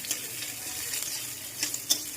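Almonds fry in a pan with a steady close sizzle and a few brief crackling bursts and stirring scrapes, and nobody speaks.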